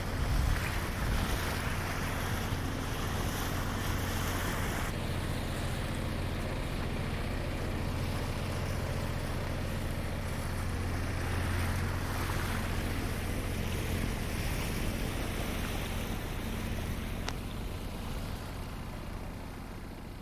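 A boat cruises on the Intracoastal Waterway and gathers speed, giving a loud, continuous engine drone mixed with rushing water and wind buffeting the microphone, with no voices.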